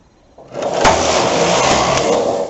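A knitting machine carriage sweeps across the needle bed while set for a stockinette stitch pattern, making a steady, close whirring rattle that starts abruptly and holds evenly to the end.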